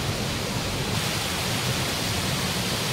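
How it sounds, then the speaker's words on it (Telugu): Ladda waterfall roars as a steady, dense wash of falling water, loud and unbroken throughout, with no voices. "ఫైనల్లీ లద్దా వాటర్ ఫాల్స్ కి అయితే వచ్చేసాం"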